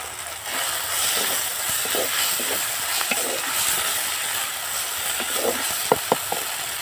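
A paste of ground coriander and cumin sizzles in a hot pan for an egg curry with small potatoes, a steady frying hiss with scattered scraping and stirring clicks growing sharper toward the end.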